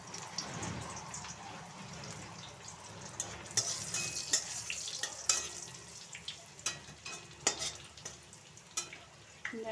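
Greens fried in a pan with dried red chili, nigella seeds and turmeric give a steady close sizzle, broken by sharp clinks and scrapes of a stirring spoon, with no voices.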